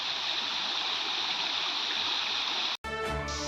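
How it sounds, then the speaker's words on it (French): Steady rushing stream of water flowing down beside Lac Noir in the Vosges, a continuous broadband roar that cuts out abruptly near the end before a brief clattering handling noise. "c'est magnifique avec l'eau qui descend"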